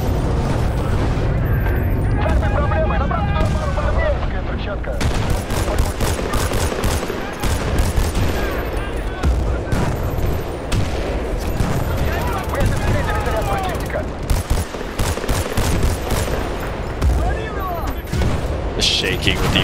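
Relentless bursts of gunfire and booming explosions in Battlefield: Bad Company 2, rapid and overlapping with barely a pause, with a voice talking now and then underneath.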